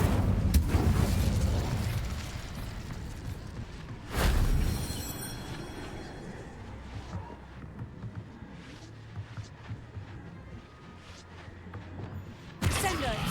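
Incendio fire spell cast in the video game Hogwarts Legacy, heard as loud bursting whooshes and booms, one near the start, one around the middle and one at the end, over a rumbling game soundscape.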